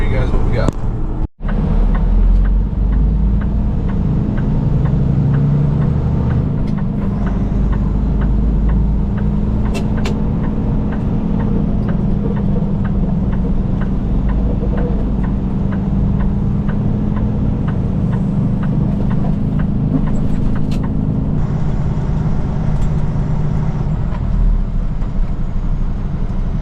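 An International truck hauling an MRAP rolls onto a weigh scale, its engine droning steadily and loudly from the cab throughout, with one sharp knock near the start and someone talking over it.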